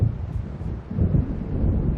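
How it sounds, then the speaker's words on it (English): Approaching storm in the video game Alan Wake, with a steady low rumble of thunder and gusting wind roaring loudly and continuously, swelling slightly toward the end, with no voices. "It seems there's a storm coming."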